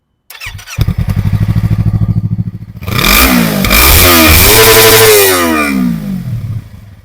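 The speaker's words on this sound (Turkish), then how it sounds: "R25'in egzoz sesi bu şekilde." A Yamaha R25 motorcycle starts and idles with a loud, pulsing exhaust, then revs up hard several times, the roar rising and falling before settling back.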